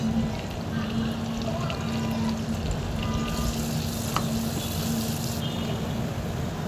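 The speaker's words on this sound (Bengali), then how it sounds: "এখন আমার কেটে রাখা পেঁয়াজ কুচিগুলো তেলে ছেড়ে দেব এবং এগুলো ভালোভাবে ভেজে নেব।" Chopped onions fry in hot oil in a pan for prawn dopiaza, a steady close sizzle running throughout with faint scraping of stirring.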